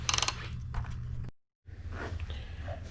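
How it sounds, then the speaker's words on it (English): The front axle on a 2013 Kawasaki ZX6R is loosened with a tool, giving close mechanical clicks and scraping over a low hum, broken by a brief silent gap before the working noise resumes. "Just stick it in and then loosen the axle."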